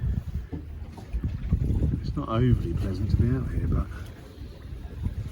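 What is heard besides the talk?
strong wind on a fishing boat off the Suffolk coast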